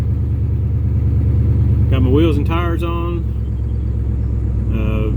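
A 1968 Ford Galaxie engine idles with a steady low rumble that runs the whole time, while someone talks briefly over it near the middle and again at the end.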